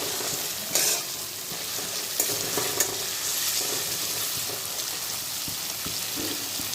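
Chicken chaap fries in hot oil in a pan, a constant dense sizzle close by, broken by several sharp clicks and scrapes of stirring.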